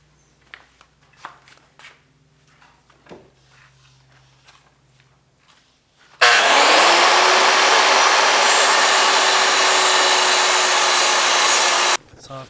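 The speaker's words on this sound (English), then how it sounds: "get the grinder out and grind it off" Angle grinder cutting a Jeep CJ7 headlight bezel held in a vise: soft handling clatter first, then a loud, steady, close grinding whine for about six seconds that stops abruptly.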